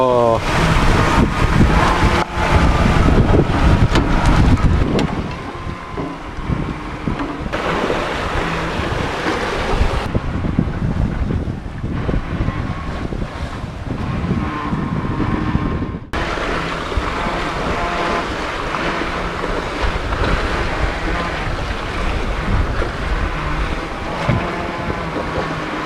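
Wind gusting over a sailboat lying at anchor in the Bahamas, a steady loud rushing roar with buffeting microphone noise and water slapping the hull, swelling and easing in waves across the whole stretch.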